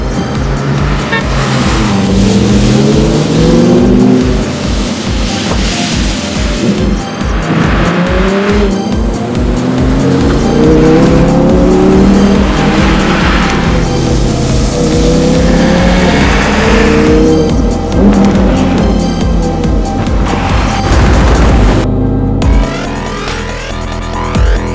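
An Audi R8's high-revving V10 engine roars loudly and continuously, pitch climbing and dropping through repeated revs and gear changes, with a brief cut near the end.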